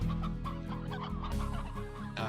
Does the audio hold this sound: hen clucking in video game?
yes